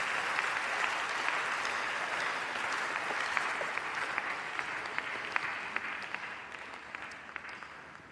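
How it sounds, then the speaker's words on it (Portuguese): A church congregation applauds steadily, a dense, even wash of many hands at a distance with occasional sharper claps standing out, fading slightly toward the end, with no voices heard. "Vamos aplaudir ao Senhor"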